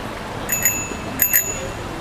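A bicycle bell rings out on a quiet Japanese back street in the Motomachi alleys: two bright double dings, close and clear, spaced under a second apart over faint low street ambience.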